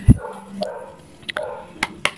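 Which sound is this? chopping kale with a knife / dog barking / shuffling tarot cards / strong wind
dog barking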